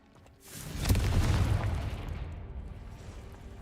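A Confringo fire spell explodes in Hogwarts Legacy, a deep booming blast that swells in quickly, then rumbles and fades slowly over a few seconds, loud and close.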